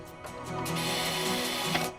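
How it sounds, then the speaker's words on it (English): Power drill boring bolt holes into a racing sim rig frame, a steady mechanical whine holding for about two seconds, close and fairly loud, with faint clicks as it starts. "Drill them out to the size you need, maybe a little bit bigger"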